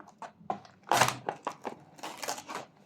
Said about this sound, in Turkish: minik bay makasımız sayesinde burayı yırtabildik